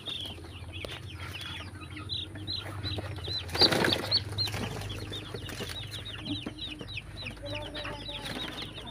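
Around twenty chickens let out of their cage cluck and chirp constantly, with a burst of flapping wings near the middle. Farmyard background, close and lively, with no talk.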